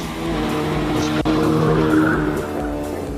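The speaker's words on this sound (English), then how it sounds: "It's Gihan De Silva in his Morris Mini. Out in the single tree corner" A Morris Mini race car at a hill climb, its engine roaring loud and close with a tire skid as it takes a corner, one sharp click partway through.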